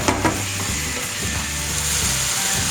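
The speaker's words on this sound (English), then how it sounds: "As you can hear by the noise, it's still sort of frying." Onions, garlic and tomatoes frying in olive or rapeseed oil in a pan, giving a steady close sizzle with soft crackle throughout and a few brief clicks near the start.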